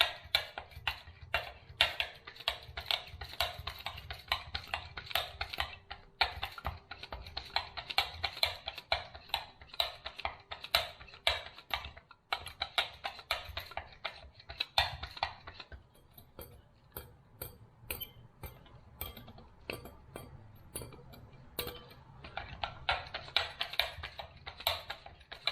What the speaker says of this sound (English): we're going to start whisking it together. So I'm going to use my pogo whisker.